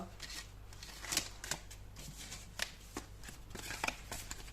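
Tarot cards being shuffled by hand, a steady papery riffle with several sharper slaps and flicks standing out, close and fairly quiet over a low steady hum.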